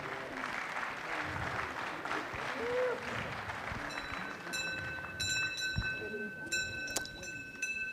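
Crowd applause at a livestock event in the Zénith d'Auvergne arena, after a cow and calf are presented, rumbles in a broad wash, fading under a busy background with ringing tones toward the end.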